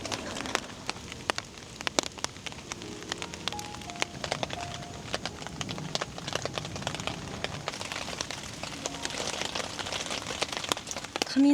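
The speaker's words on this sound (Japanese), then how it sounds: "雷がちょっと落ち着きました雨はまだ止む気配ないです。" Rain patters steadily at a solo campsite during a thunderstorm, with dense irregular drops striking a tent or tarp up close, continuous and moderately loud with sharp individual taps throughout.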